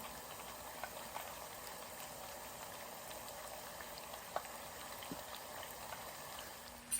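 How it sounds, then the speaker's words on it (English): Homemade potato chips deep frying in hot oil, a steady soft bubbling sizzle with scattered small pops and crackles, fairly faint and continuous, no voices. "It's cooking now. You can see they're already come to the top, and they're just deep fried."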